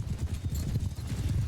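Horse hooves clip-clop in a steady, quick rhythm in the Mount and Blade 2 Bannerlord video game, a loud continuous gallop carrying on throughout with no talk over it.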